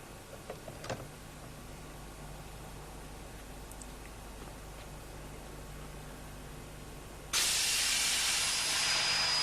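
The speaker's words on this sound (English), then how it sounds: "keep the valve or cock open until all the air pressure is discharged" A steady, loud hiss of air bursts out of a British Rail train brake pipe through the open cock at the rear of the last vehicle, continuing without pause after several seconds of quiet background hum and a few faint clicks.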